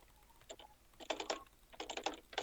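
A computer mouse clicks in quick irregular clusters during a Bed Wars game session, sharp close taps in bursts with short pauses between.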